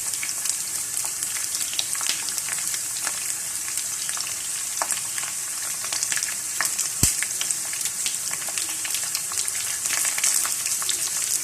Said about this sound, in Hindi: जब आलू हल्के से फ्राई हो जाएं तो फिर इसके ऊपर हम डाल देंगे प्याज के स्लाइस।